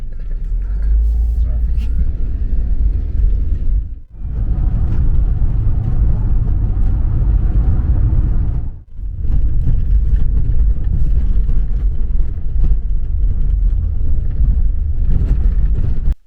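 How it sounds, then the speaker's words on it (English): Steady road traffic rumbles loudly and close by on a street in a Soviet uranium mining town, with vehicle noise swelling and passing in a continuous drone broken by two brief dips. "traffic."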